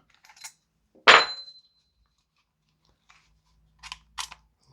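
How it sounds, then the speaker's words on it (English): Pin being pushed out of a Tokyo Marui AKM gas blowback airsoft rifle stock, one sharp close metallic knock followed later by a couple of lighter clicks in a quiet room. "push the pin out"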